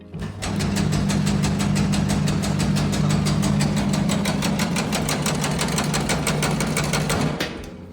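An STvega Dicer industrial machine cuts dried mango with a loud, steady, rapid mechanical clatter over a low motor hum, running continuously for about seven seconds before winding down.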